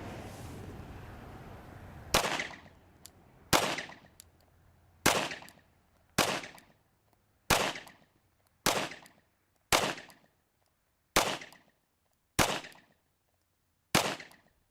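Ten handgun shots fired two-handed at a target during a CCW qualification course, each a sharp loud crack with a short decaying tail, spaced roughly one to two seconds apart after a brief stretch of outdoor background noise.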